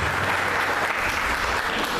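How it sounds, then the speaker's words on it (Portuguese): A church congregation claps together for the Lord in a dense, steady wash of applause that fills the whole short stretch, loud and close with no voices rising above it. "pode sentir a vontade de aplaudir o Senhor"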